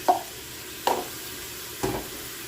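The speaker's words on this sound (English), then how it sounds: "you want to stir this around until you start smelling the garlic" Garlic sizzling in pasta sauce in a pan, with a quiet low sizzle under three soft stirring scrapes spaced about a second apart.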